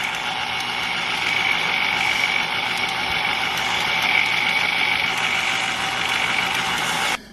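A microwave oven runs with a steady, loud mechanical hum and a constant whir, continuing evenly for several seconds before cutting off abruptly at the end.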